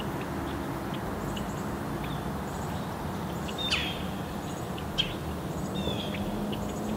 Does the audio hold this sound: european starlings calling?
yes